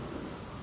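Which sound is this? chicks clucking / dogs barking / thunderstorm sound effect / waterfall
thunderstorm sound effect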